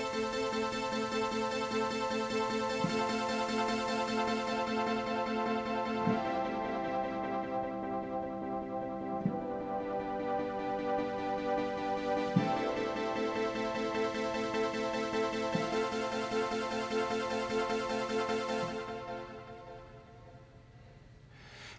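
Big layered synth stack keyboard patch with a 16th-note arpeggiator at even volume, playing a worship song, dense sustained chords with regular pulses every few seconds, steady then fading out at the end, no voices.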